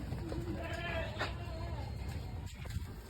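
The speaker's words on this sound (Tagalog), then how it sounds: "Ito pa ibang tupa, may mga anak na." Sheep bleat on a farm where some ewes have lambs, with wavering calls early on while people talk nearby over steady outdoor background noise.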